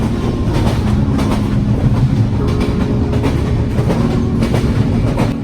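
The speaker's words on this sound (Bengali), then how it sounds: "ট্রেনের ঝকঝকাঝক শব্দ" An express passenger train in Bangladesh bound for Khulna clatters steadily along the rails, with a continuous loud rumble and rhythmic clickety-clack heard from on board.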